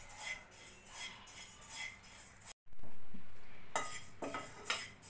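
Poppy seeds and flax seeds being dry-roasted and stirred in a pan, with soft scraping and light clinks of a utensil against the metal, briefly cut by a silent gap, then continuing with sharper scrapes.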